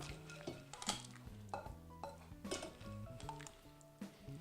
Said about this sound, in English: we'll lock in the color by placing it in some ice water